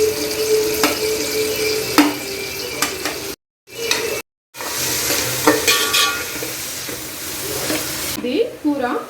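Onions fry in a pan for a Telangana chicken curry, giving a constant close sizzle with stirring scrapes. The sizzle cuts out briefly twice, and a voice is faintly present.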